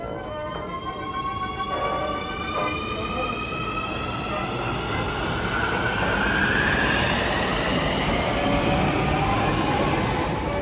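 A Nuremberg U-Bahn U3 subway train rumbles close by, with a steady roar of wheels on rail and rising tonal whines and squeals from the motors and wheels as it runs, loud and continuous throughout.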